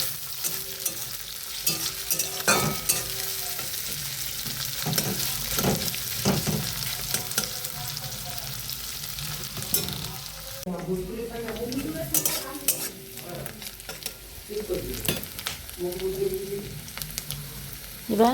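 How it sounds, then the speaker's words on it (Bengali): Chopped onions sizzle steadily in a pan at close range, with repeated stirring scrapes and clinks of a metal utensil on the cookware throughout. "দিয়ে একটু ভাজা ভাজা হোক।"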